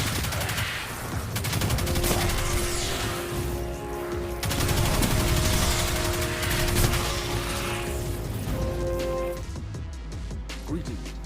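Rapid automatic fire from an exotic submachine gun in a sci-fi shooter game, sustained bursts with brief pauses against a dense layer of game effects and combat noise, loud and continuous across the whole stretch.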